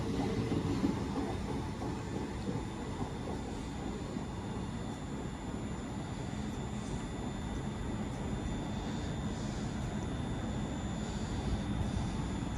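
A Class 805 train rolls past at a distance, a continuous rushing rumble with a faint high whine, steady and fairly quiet throughout.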